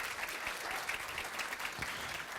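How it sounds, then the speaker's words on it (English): A school audience at a Board of Education meeting claps for a student band's rhythm section, a short burst of dense, steady applause at moderate level. "Round of applause for our rhythm section."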